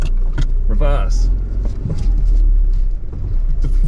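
A Nissan Bluebird car driving, with a loud steady low rumble of engine and road noise close in the cabin while a person talks over it.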